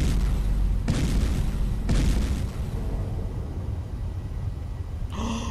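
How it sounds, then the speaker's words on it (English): Big cannon turrets fire in the game Space Engineers, two heavy booming blasts about a second apart followed by a rumbling tail and a brief later burst. "My long range guns right now, the big cannons are firing at you."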